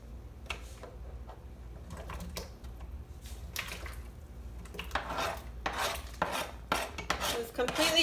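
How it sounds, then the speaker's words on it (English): Chopped vegetables are tipped into a soup pot with potatoes for caldo de albóndigas, giving clattering, rustling thuds and scrapes against metal that grow louder and busier toward the end. There is no talking. "And going in with our vegetables"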